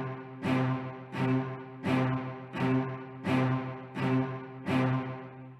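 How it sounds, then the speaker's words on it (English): A cello plays seven short staccato notes, each sharply bowed with a rich, resonant tone, evenly spaced and close by, with no other sounds. "This is the sound of the cello."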